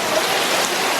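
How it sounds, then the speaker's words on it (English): Heavy rain pours down during a thunderstorm, a loud, dense, steady hiss of water falling across surfaces in a brief burst. "It's pouring down raining."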